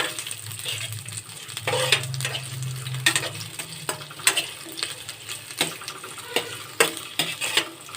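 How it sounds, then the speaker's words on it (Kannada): Sliced onions frying in hot oil for a breakfast pasta, a steady soft sizzle broken by repeated clattering stirs and scrapes of a spoon in the pan, with no voices. "ಈರುಳ್ಳಿಯ ಬಣ್ಣ ಕಂದು ಬಣ್ಣ ಬರುವವರೆಗೂ ನೀವು ಫ್ರೈ ಮಾಡ್ಕೋಬೇಕು."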